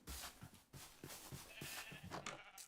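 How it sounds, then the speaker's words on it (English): Sheep in Minecraft give several short, overlapping bleats in quick succession, faint and fairly close, with no voices over them. "I hear the sheep overlapping with each other."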